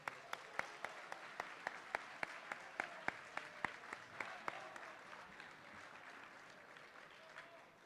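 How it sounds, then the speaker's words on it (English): A school assembly audience applauds students in a steady burst of clapping with sharp, evenly spaced claps standing out, fading toward the end; no one speaks. "Round of applause for all those students."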